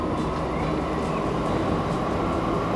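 An oil freight train pulling into a station in a railway management game, a loud, continuous rumble of rolling wagons and engine without pauses.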